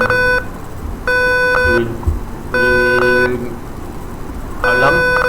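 A magnetic door lock security alarm buzzer sounds in three loud, sustained beeps, each about a second long, separated by short pauses.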